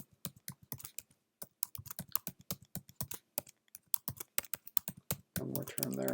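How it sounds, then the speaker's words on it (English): Rapid typing on a computer keyboard, dense clusters of crisp key clicks with short pauses between bursts, close and fairly quiet, ending in a brief stretch of muffled noise. "I'll just try to type as fast as I can here."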